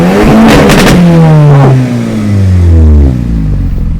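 A VW Golf R engine revving hard with traction control off, rising and falling pitch sweeps as the revs climb and drop, loud and close, with a brief spoken word early on.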